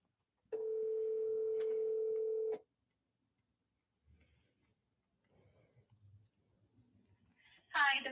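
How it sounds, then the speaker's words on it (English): A single steady telephone ring tone sounds for about two seconds, followed by quiet rustling and a brief voice at the end. "It's ringing."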